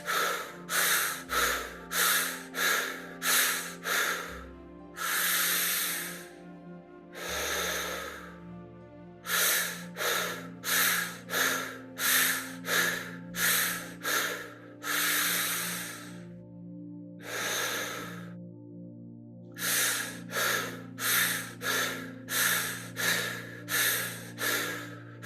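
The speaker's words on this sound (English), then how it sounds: "So let's do 4 short breaths." Rhythmic sharp breaths during a guided breathing exercise: repeated bursts of four quick nasal inhales and exhales separated by longer drawn breaths, close and loud, with no talking.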